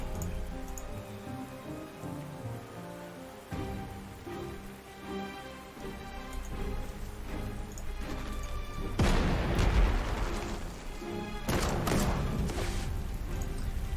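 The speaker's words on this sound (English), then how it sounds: "Which is not a problem because I've got big fat artillery for that." Artillery fires in Panzer Corps 2 at Bryansk in 1941, with heavy booming blasts and crashing impacts over a rumbling battlefield background, the loudest bursts coming late.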